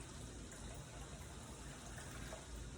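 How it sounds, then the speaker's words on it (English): Water poured into a roasting pan holding pie pumpkin, a continuous soft gushing splash that stays even and steady for the whole short stretch, faint and without talk. "You're going to add 3 cups of water to your pan so that the pumpkin doesn't dry out."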